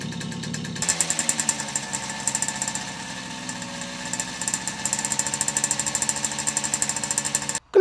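A cold moped engine idles steadily with a rough, pulsing chatter, running alone for several seconds before cutting off abruptly at the end.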